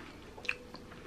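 A quiet bite into a homemade cream cheese cookie, then soft chewing, heard close but faint.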